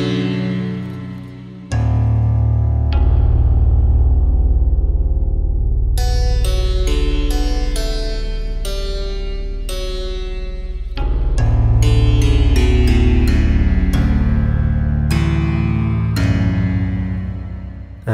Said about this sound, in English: We'll start at the very top, abstract piano.